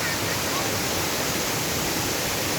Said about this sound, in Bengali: ঠিক আমাদের এই পেছনে বেশ চমৎকার সুন্দর বামনি ফলস, সুন্দর দেখাচ্ছে